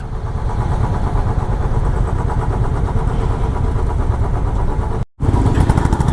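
Motorcycle engine droning steadily at close range while the rider moves through a late-night traffic jam, a continuous mid-pitched hum with a brief dropout near the end before resuming.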